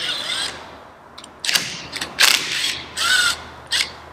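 Needle nose vise grips clamp onto a truck tarp fastener and work it loose, making several loud, close metallic ratcheting and scraping bursts separated by short pauses, no talking.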